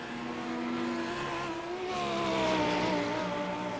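Race car engines in an iRacing replay drone and rise in pitch as the cars overtake each other, holding steady and fairly quiet with no talk over them.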